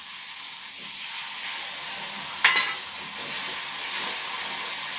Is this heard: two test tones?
no